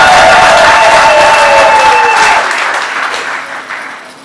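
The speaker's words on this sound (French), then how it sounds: "Applaudissez encore la Vierge." Loud, dense applause from a gala audience during a Catholic radio catechesis evening, swelling at first and then gradually tapering off as the clapping thins out.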